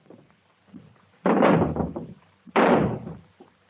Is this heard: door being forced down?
yes